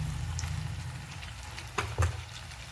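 Spiced masala with tomatoes being sautéed in a pan makes a soft, low sizzle with a few sharper pops and spatters near the end, with no voices.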